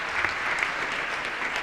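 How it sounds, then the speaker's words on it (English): Audience applause in a legislative chamber during the 1993 New York State of the State address, a steady, dense wash of clapping from a large crowd lasting throughout, with no speech over it. "please applaud"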